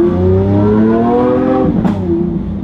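A Lamborghini Aventador S V12 revs hard with its exhaust valves open, a loud, close, rising engine roar with climbing harmonic tones that peaks and then eases back.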